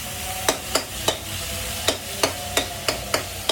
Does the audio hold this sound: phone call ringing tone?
no